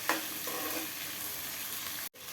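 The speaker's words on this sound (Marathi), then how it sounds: "छान परतून घ्या कांदा." Onion frying in a pan for a spiced masala, giving a loud, constant close sizzle with a stir at the start and a brief break near the end.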